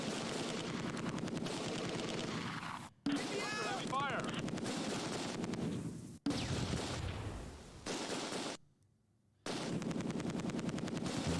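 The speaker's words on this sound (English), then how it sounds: "So that's our 30 cal firing here." Sustained bursts of .30 caliber machine gun fire from the Close Combat 2 wargame, rapid and loud, repeating across the clip with brief gaps, a short silence near the end before the firing resumes.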